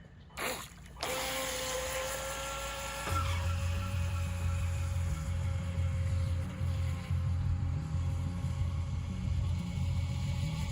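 A small HBX Surge X03 RC car running on a stock 2S Li-ion 800 mAh battery gives a steady, close electric motor whine with a constant hum that rises after a brief start and holds for the rest of the run.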